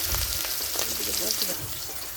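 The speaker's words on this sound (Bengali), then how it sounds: "প্রথমে হলো মাছটা ভাজে নিতেছে" Pieces of hilsa fish fry in a pan with a steady hiss and sizzle, heard close up as a constant crackle while a voice speaks quietly underneath.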